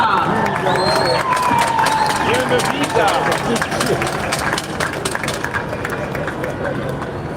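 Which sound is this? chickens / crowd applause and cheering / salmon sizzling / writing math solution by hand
crowd applause and cheering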